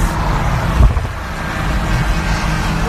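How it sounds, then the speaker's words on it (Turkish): Car passing from the opposite direction at night during a Nissan GT-R street roll race, a brief loud whoosh near the start over a steady engine and road drone. "karşıdan bir araba geçti"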